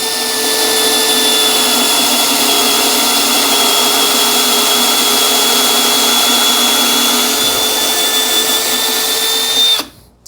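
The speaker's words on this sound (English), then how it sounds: "let's go ahead and make sure it's going to drill in the proper location" A power drill runs steadily at high speed while boring into wood in a woodworking shop, a loud continuous whine that holds even for about ten seconds and then cuts off abruptly.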